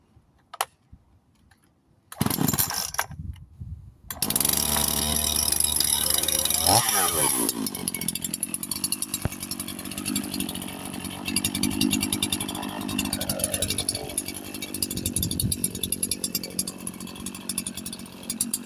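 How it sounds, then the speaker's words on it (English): A chainsaw starts after a couple of pulls and keeps running with a loud, steady buzzing drone, the engine pitch shifting as it revs. "I got the chainsaw going."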